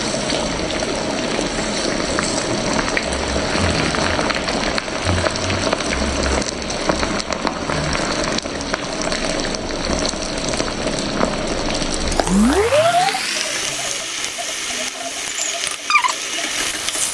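Egg-coated pieces of ugali fries crackle in hot cooking oil. A dense, steady sizzle runs close and loud, then shifts abruptly near the end as the frying sound changes.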